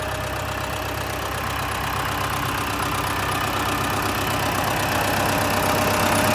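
An MTZ-80 tractor engine runs steadily and loudly throughout spring ploughing in wet soil, a constant rumbling drone with no pauses.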